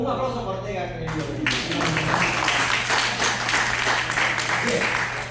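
Applause from an audience for Ortega during a spoken session, a dense stretch of clapping that swells after a brief spoken lead-in and continues steadily to the end.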